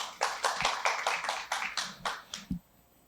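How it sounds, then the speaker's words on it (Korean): Audience applause at a Korean awards ceremony and special lecture, a short burst of hand clapping in pulses that fades out after about two and a half seconds. "큰 박수로 맞이해 주시기 바랍니다."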